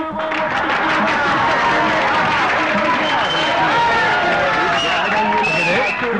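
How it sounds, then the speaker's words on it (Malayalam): A large crowd claps and cheers continuously, a dense wash of applause mixed with shouting voices throughout. "എല്ലാവരും കൈയടിച്ച് സ്വീകരിക്കൂ"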